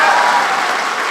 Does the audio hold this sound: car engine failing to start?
no